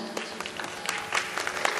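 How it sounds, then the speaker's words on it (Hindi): An audience at a Varanasi fair applauds to welcome a classical performer and his accompanists, with faint, steady clapping that carries a few sharper claps and sounds distant. "एक बार जोरदार तालियों से इनका स्वागत करें।"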